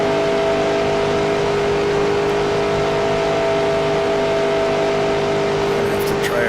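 A NASCAR stock car engine in NASCAR Racing 2003 at Daytona drones steadily at high revs, a loud, continuous tone held under throttle with no pause.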